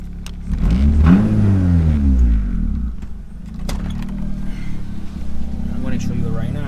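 A turbocharged 1.6-litre Nissan B13 Sentra with its exhaust cutout open revs up close, engine note swelling and falling in a loud rasping burst, then settling to a rough idle.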